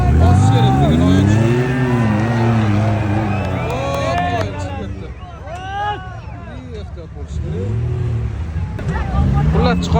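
A Lada Niva pulls away at a jeep sprint race, its engine revving and rising in pitch over a loud outdoor crowd, with other engines whining nearby and people talking throughout.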